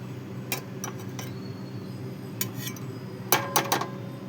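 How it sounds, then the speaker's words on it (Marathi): A plate is set as a lid over a cooking pot, heard as a few sharp ceramic clinks and taps in clusters over a low kitchen hum, with no talking. "चला तर आपण बघा एक प्लेट अशी झाकण ठेवून घेऊया."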